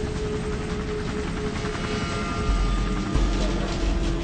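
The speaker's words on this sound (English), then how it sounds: "The American chopper is already 200 meters away" An American military helicopter approaches, a steady rotor drone and engine whine with low thumping growing slightly heavier toward the end.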